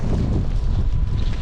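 Strong gusting wind in a winter snowstorm, a loud, dense rumbling roar buffeting the microphone without pause.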